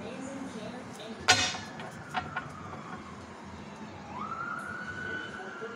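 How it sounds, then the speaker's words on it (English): A distant police siren wails faintly in the background, rising in pitch near the end, under street noise with brief clattering sounds. "You hear them sirens?"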